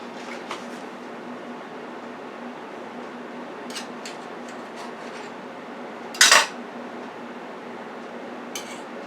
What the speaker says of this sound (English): Get a knife and cut it.